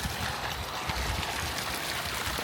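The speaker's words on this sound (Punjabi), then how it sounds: "ਸਾਡਾ 5 HP ਦੀ ਮੋਟਰ ਜਿਹੜਾ ਉਹਦਾ ਪਾਣੀ ਹੈ" Water pouring steadily from a 5 HP electric well pump motor on a farm, a continuous close trickling and gurgling flow with no voices.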